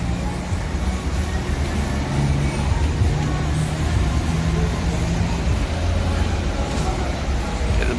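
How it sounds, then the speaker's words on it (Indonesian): Jetbus HD coach bus on a Medan to Palembang route idles with a steady low engine rumble and continuous road-traffic noise, loud and unbroken throughout. "Wow, ini jet bus HD, keren."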